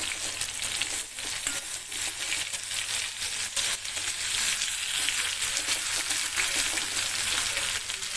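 Whole stuffed brinjals frying in hot oil in a pan, a dense, steady sizzle with crackling spits and pops running loud and continuous throughout, no voices.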